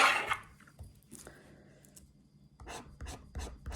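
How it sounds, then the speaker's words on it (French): A Banco scratch lottery ticket scraped with a coin or small tool, giving short rasping scratches close up with quiet pauses between strokes, no talking. "C'est un banco. Ça va aller très vite à gratter."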